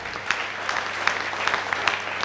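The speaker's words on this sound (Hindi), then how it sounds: "मैं चाहूँगा इनके लिए भी जोरदार तालियां हो जाए।" Applause from a hall audience at a company event, a steady dense patter of clapping with a few sharper claps standing out, fairly close and unbroken by talk.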